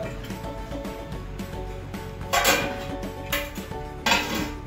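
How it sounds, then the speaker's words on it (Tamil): A metal lid set onto a pot of Coimbatore-style chicken dum biryani, with several clanks and rattles of metal cookware over a low kitchen background, louder strikes near the end. "மூடி வச்சிட்டோம்னா சீக்கிரம் பாயில் ஆயிரும்."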